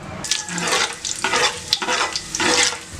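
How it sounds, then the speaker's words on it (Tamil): Whole spices and bay leaves temper in hot oil for fish biryani, a close, loud sizzle with scraping stirs and crackling bursts throughout. "இதெல்லாம் போட்டு நம்ம நல்லா தாளிச்சிக்கலாம்."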